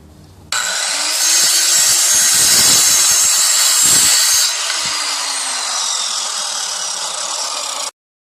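A power saw cuts through old wood boards for a plant stand, one loud sustained rasping whine running for several seconds with a bite of wood grinding partway through, then stopping abruptly.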